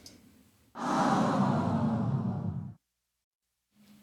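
A single breathy whoosh swells in abruptly, holds for about two seconds, then cuts off into silence before a faint sound returns.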